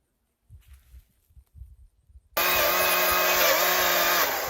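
A chainsaw is started at a wilderness log cabin build site. Quiet thuds and shuffling give way to the engine suddenly catching and roaring into a loud, steady, buzzing idle that continues to the end.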